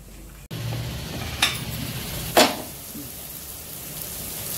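Onions fry in a pan with turmeric, a soft steady sizzle broken by two or three brief scraping stirs, close by and without voices.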